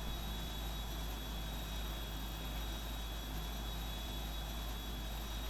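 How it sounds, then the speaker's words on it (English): Boeing 747-8F jet engines spool up during start in the PMDG flight simulator, a steady broadband roar with a constant high whine, even and unbroken throughout with no talk. "And we're now seeing these huge engines starting."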